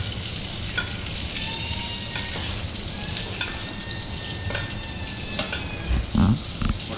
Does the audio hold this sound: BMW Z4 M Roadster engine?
no